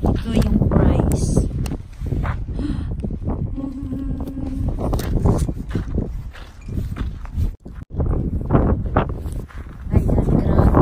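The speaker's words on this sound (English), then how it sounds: "And it is very windy." Strong wind buffets and roars in gusts close by, with rumbling noise throughout and brief lulls, while a person talks over it.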